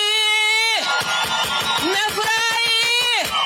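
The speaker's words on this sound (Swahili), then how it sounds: "Mpigieni makofi." Large outdoor political rally crowd in Nandi cheering and clapping loudly and continuously, with shouts and whoops rising over a sustained roar, while a voice calls out over the noise.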